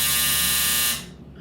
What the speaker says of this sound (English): That's my dryer. It gets me every time.